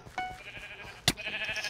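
Sheep bleating in the video game Sheep Quest: a short, nasal bleat rises sharply over a steady game soundtrack and scattered effects, brief and fairly close in the mix.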